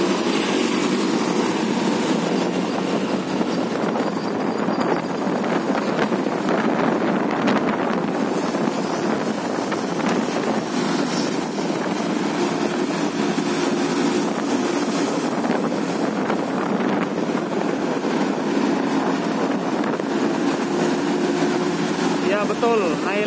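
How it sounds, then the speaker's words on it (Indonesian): A Medan Jaya intercity bus on a Medan–Jakarta replacement run, departing from Cikokol, drones steadily throughout with a broad engine and road rumble, loud and constant with wind-like noise over it. "Suara mesinnya sangar."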